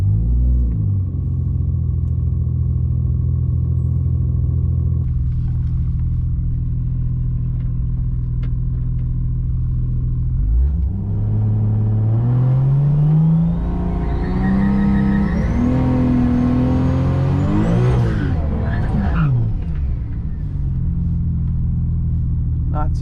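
A Toyota Supra at a drag strip idles with a deep rumble, then launches and revs hard, engine pitch climbing through rising gear sweeps before dropping back to a low drone. People talk over the engine noise.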